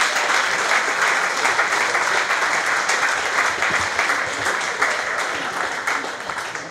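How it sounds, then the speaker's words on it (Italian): An audience applauding at a football club's 50th anniversary celebration, steady full clapping from a crowd indoors that tapers slightly toward the end. "Quindi un applauso anche a Fiorenzo e a me."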